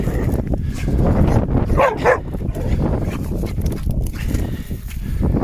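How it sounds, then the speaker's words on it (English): On a fell run, a dog lets out a brief bark or two midway through, partly buried under heavy wind rush and footfall noise outdoors. "especially when you've got a lunatic dog like this, who you have to boss around every few minutes"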